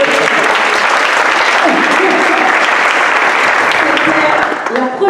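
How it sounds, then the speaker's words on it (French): Loud, dense applause from an audience at a French-language launch event, close and continuous for about five seconds before it begins to thin at the end. "On peut l'applaudir, bien sûr."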